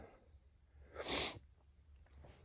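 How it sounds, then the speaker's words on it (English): A single close, sharp sneeze bursts out in the middle of a quiet moment, with soft breathing before and after. "oh, I'm going to sneeze"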